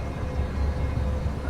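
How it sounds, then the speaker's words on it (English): Airliner turbine engines in the FFA320 flight simulator, a steady low rumbling drone that holds constant throughout with no distinct whine or talk. "the turbines here not supposed to sound like this"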